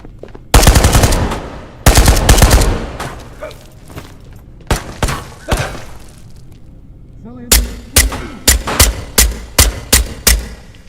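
Bursts of gunfire from the VR shooter Ghosts of Tabor: two long, loud automatic volleys near the start, then scattered single shots, followed by a rapid run of evenly spaced close shots toward the end.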